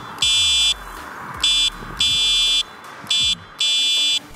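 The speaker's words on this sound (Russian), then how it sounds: "И нижняя кнопка является электронным клаксоном." Electronic horn of a 2021 Yokamura Combo city e-bike, sounding in five loud, even beeps with short pauses between them, close up and with no talk.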